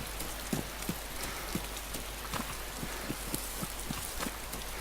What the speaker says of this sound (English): You're standing in the rain.